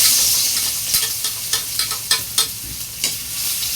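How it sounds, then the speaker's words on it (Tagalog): Tomatoes sautéing in a hot pan, a constant bright sizzle broken by repeated scraping stirs of a utensil, close and loud with no talking. "ginisa natin yan"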